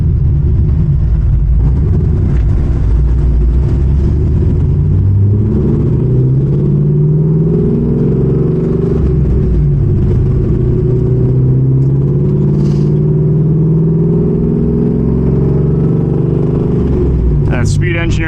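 A cammed Trans Am with a Speed Engineering exhaust and six-speed drives down the road, its deep, loud exhaust rumble and lopey idle droning continuously from inside the car, with a voice speaking over parts.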